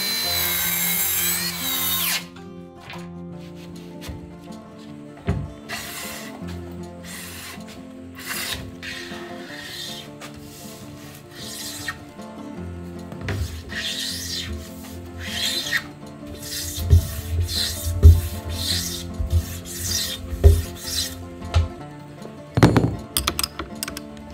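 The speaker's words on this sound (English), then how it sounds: "It's a 10mm thick Japanese cypress board. I'm going to cut it to about 2 centimeters and use it as a tenon." A 10mm thick Japanese cypress board is sawn to size for a tenon, with repeated rasping saw strokes in bursts and some knocks and handling noise between them, close and fairly loud, with no talking.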